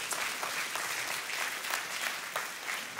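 A church congregation applauds together, a continuous patter of many hands clapping at moderate distance, fairly soft and sustained without pause.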